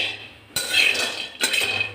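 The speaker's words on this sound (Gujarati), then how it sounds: "તો સૌથી પહેલાં આપણે ગેસ ઓન કરી ગેસ ઉપર આપણે કડાઈ રાખી દઈશું" A metal kadai set down on a gas stove burner before roasting peanuts, giving two short clanking contacts of metal on the grate, close and fairly loud, with no talk.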